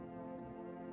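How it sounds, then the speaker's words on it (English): A telephone dial tone in the game No I'm Not a Human hums as a faint, steady, unbroken tone for just under a second. "That's a dial tone, right?"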